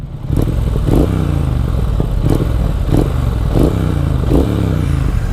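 A Triumph Thruxton motorcycle engine with a Bonneville twin runs at a steady, even idle, a loud low rumble with a regular rhythmic pulse throughout.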